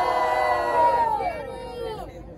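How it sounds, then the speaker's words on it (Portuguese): Crowd at a Brazilian street rap battle roars and cheers for an MC, a loud sustained burst of voices and shouts that swells and then fades out. "Barulho e mão lá em cima pra quem gostou das rimas de Mandacaru"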